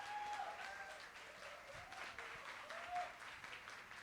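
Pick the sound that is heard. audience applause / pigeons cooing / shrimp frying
audience applause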